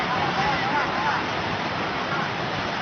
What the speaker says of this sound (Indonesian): Ini keluarnya air dari kantor Kepala Desa Terlangu